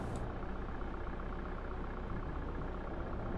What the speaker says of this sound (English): Oh yeah, bus sounds fantastic.